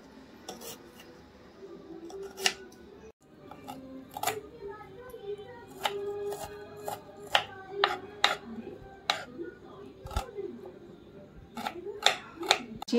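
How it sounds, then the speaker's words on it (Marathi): A knife chops gola vegetable finely on a board, cut cabbage-style into thin shreds, giving a series of sharp, irregular close taps with soft rubbing between strokes and a faint voice at times. "आपण कोबी सारखं असं कापून घेऊया बारीक बारीक"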